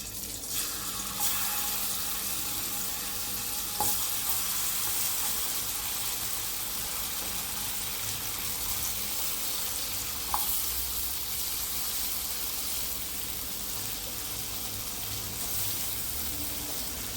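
Soaked dried fish (karuvadu) fries in hot oil with a loud, steady sizzle throughout, close by, broken by a couple of brief clinks and no talking.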